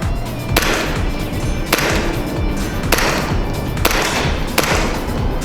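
A WE G18C airsoft pistol fitted with a REAP conversion kit fires 0.3 g BBs outdoors, giving four sharp, evenly spaced shots about a second apart, close and loud over a steady background hiss.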